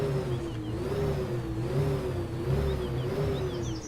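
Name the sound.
engine revving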